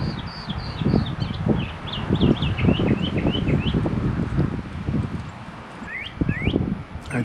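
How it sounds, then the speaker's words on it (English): A red cardinal sings a string of clear, repeated whistled phrases nearby, with a couple of sharper upslurred notes near the end, over steady outdoor ambience, rustling and low background noise. "I think this is a red cardinal singing"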